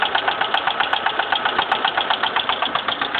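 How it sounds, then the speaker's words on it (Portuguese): A car engine with a noise fault and too little oil runs at a steady, rhythmic idle, its fast even pulsing close and loud throughout, with no clear rise in revs and no voices. "acelerada pra mim lá, Roberto."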